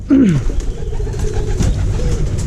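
Pigeons coo close by near their nest, one loud rolling call at the start followed by softer cooing and murmurs over a low background rumble.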